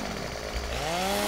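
Chainsaw engine whining and rising in pitch in the Farming Simulator 2015 forestry game, faint and steady over a low rumble, brief and with no speech.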